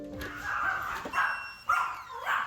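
A dog barks and yips in repeated, sharp bursts, loud and close, while a steady tone sounds underneath.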